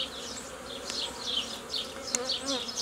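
Honey bees buzz close by, many overlapping wingbeat tones rising and falling as individual bees fly past, with soft background hum and no talking.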